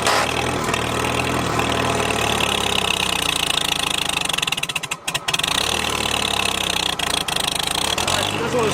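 An old, abandoned farm tractor engine runs loud and steady with a rough, knocking idle, dipping briefly midway before picking back up; people talk over it.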